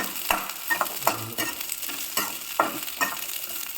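Dried red chillies and curry leaves frying in hot oil in a pan, a steady close sizzle broken by repeated scraping stirs.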